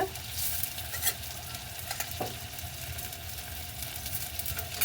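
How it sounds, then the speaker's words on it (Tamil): Close, continuous sizzling of fennel seeds frying in hot oil for tempering, with occasional stirring clinks and light crackles, no voices. "அடுத்ததாக பெருஞ்சீரகம் போட போகிறோம் தாளிக்கிறதுக்கு."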